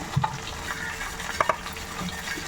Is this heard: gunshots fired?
no